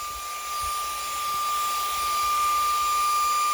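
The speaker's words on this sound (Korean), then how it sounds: "샤오미 청소기였습니다." A Xiaomi handheld car vacuum cleaner runs on its strong suction setting, giving a steady, even whir with a thin high whine that holds across the whole stretch, with no talk over it.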